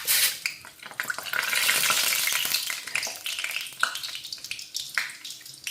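Chana dal fries in hot sesame oil in a pan as it is stirred, giving a soft steady sizzle with light scraping and clinks of a spoon against the pan, close and fairly quiet.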